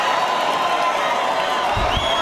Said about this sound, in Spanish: El mandatario fue recibido con cerrados aplausos y gritos de apoyo.